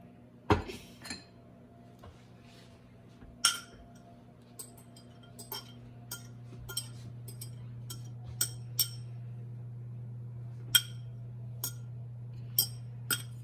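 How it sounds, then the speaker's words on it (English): Egg yolks being mixed into flour and sugar in a bowl for vanilla cream-filled donuts, giving sharp utensil clinks and taps against the bowl, scattered and irregular over a steady low hum, with no talking. "I'm going to add the egg yolks to my flour and sugar and start mixing"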